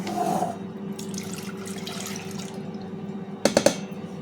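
Liquid is poured in a home kitchen while preparing a fish finger and parsley sauce meal, a steady close trickle against a background hum, ending in a few sharp clinks and drips.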